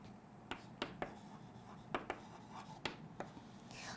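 A pen or marker writes by hand on a board or paper, a handful of soft, separate strokes and taps spaced irregularly, close and faint over a light background hiss.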